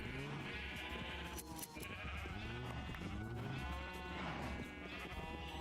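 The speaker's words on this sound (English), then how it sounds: "I'm shearing this sheep, I promise you," Blocky Minecraft-style sheep bleating repeatedly while being sheared in a video game, a steady run of close, loud bleats over a busy game background.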